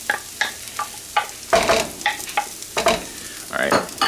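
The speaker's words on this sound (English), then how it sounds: "I'm going to go ahead and mix this up a little bit" Bacon and sausage are stirred together in a breakfast skillet, a series of close scraping spatula strokes in an irregular rhythm over a soft sizzle.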